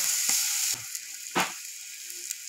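Chili powder hits hot oil in a frying pan while biryani is cooked, giving a steady high hiss with a few brief scraping stirs punctuating the sizzle.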